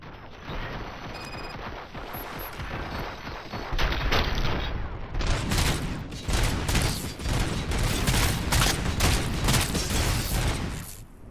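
Loud, dense gunfire from the Robocop: Rogue City video game: rapid overlapping shots that pile into a continuous barrage and grow more intense partway through, with no voices.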